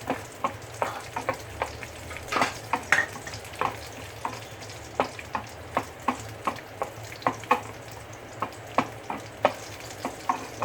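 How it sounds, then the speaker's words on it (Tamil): Cashew nuts fry in a pan for payasam, a low sizzle under a quick, fairly regular series of spoon scrapes and clicks against the pan. "சிம்லேயே வச்சு கூட நீங்கள் வந்து ஃப்ரை பண்ணிக்கலாம்"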